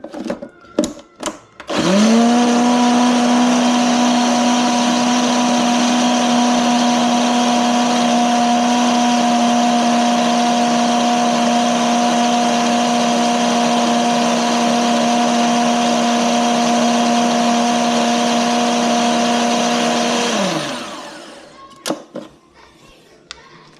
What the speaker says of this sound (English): we're gonna take 2 pieces of shrimp and we're gonna blend it up in there